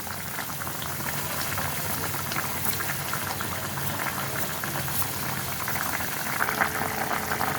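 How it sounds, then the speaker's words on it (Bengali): Tengra fish curry with eggplant at a full boil in a pot, a dense, continuous bubbling and popping heard close and steady throughout, with no voices. "এখন ফুটে গেছে।"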